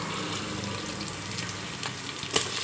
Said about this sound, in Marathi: आता मी इथं फोडणी देत आहे खिचडीसाठी